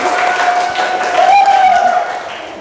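Applause from a vocational high school classroom in Bekasi after students answer correctly, dense clapping mixed with children's voices and chatter throughout, fairly loud and close.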